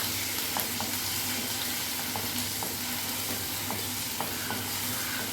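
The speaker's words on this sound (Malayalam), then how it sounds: "എണ്ണ ചൂടായതിനു ശേഷം അതിലേക്ക് തല്ലി വെച്ച ഇഞ്ചിയും വെളുത്തുള്ളിയും ആഡ് ചെയ്ത്" Crushed ginger and garlic fry in hot oil in a pot, giving a steady close sizzle and crackle with occasional stirring scrapes and clicks of a spoon throughout; no voices.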